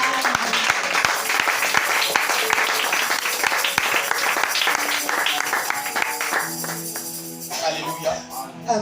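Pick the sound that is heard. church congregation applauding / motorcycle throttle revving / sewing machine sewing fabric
church congregation applauding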